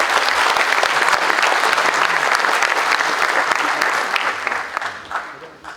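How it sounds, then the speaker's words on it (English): Audience applause for visiting lecturer Avi, who travelled from Dubai for the Nitin Puri Memorial Lecture: dense, sustained clapping from a large crowd, loud and steady before thinning slightly toward the end. "So one round of applause for Avi again."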